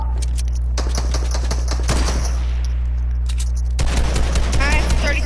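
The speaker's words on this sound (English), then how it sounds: "Shoot again, shoot again, shoot again!" Rapid bursts of video game gunfire crackle loudly throughout, with a steady low hum underneath and a second flurry of shots near the end.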